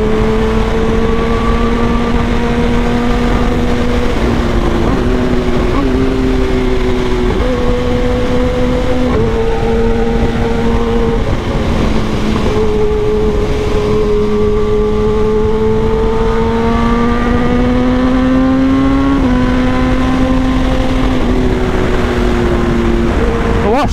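A Kawasaki motorcycle rides over a rough dirt road, its engine droning loud and close throughout with shifting pitch as it speeds up and eases off, with rattling and wind noise underneath.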